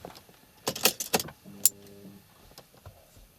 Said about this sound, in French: c'est ma batterie, elle fait un peu ce bruit là